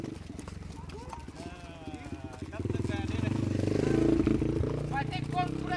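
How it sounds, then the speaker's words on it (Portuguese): Hooves of a mare named Dolarice clip-clop along a street during a Goiabeira ride, a steady rhythmic clatter mixed with voices and crowd noise that swells louder midway. "Pedro, com sua égua, Dolarice."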